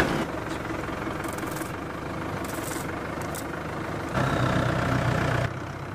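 A tractor engine runs at a steady idle before mowing. The low, even rumble grows a little louder near the end, and no voices are heard.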